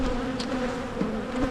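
Honeybees buzz around a beehive in a steady, close, droning hum that fills the whole moment with no voices.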